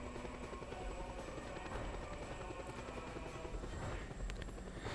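Helicopter in Just Cause 2, a steady loud rotor and engine drone with fast chopping pulses running throughout, no voices.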